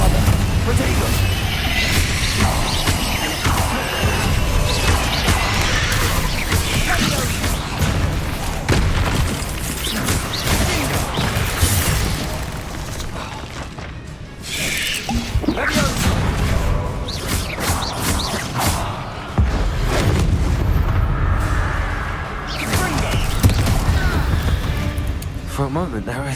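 Confringo and Bombarda spell explosions in the video game Hogwarts Legacy: a dense, continuous barrage of loud booms and crackling blasts mixed with busy combat noise and voices, with a brief lull midway.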